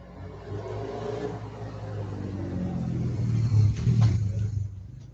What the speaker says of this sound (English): they drive loud cars and loud motorcycles